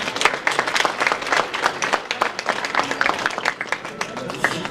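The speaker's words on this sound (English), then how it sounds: "Give yourself a round of applause." An audience at a monthly poetry event in Dayton gives a round of applause, close and lively clapping with some cheering voices mixed in, lasting a few seconds.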